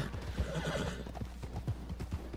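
A horse in a Western video game neighs with a rising whinny, then hooves clip-clop in a quick irregular rhythm, close and fairly loud.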